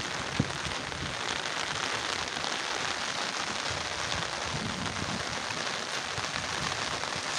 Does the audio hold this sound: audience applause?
no